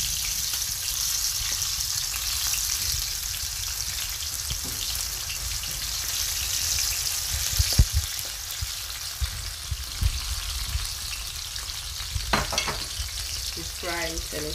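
Onions fry in a saucepan with a steady, close sizzle and crackle throughout, broken by a few clinks and stirring knocks toward the end.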